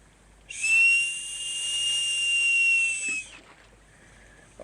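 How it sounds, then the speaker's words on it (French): A single long, shrill whistle sounds for about three seconds, high and steady, then stops, leaving near silence. "Je siffle mon chien."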